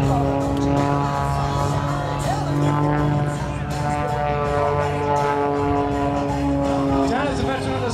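An MXS aerobatic propeller airplane flown by an Air Guard pilot at a military airshow holds a loud, steady, tonal engine and prop drone throughout, with crowd or announcer sound mixed beneath.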